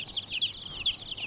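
Chicks chirp close by while being counted, with a quick run of bright, high-pitched peeps repeating in bursts and no talk over them.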